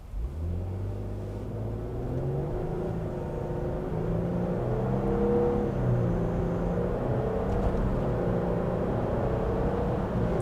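A Lexus GX 550 Overtrail SUV accelerating on a 4x4 trail, its engine rising in a steady, loud climbing drone with no talk.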